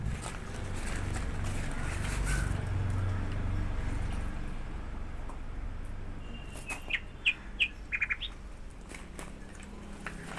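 Faint outdoor background with a few short, high bird chirps near the end, scattered and brief against a steady low rumble.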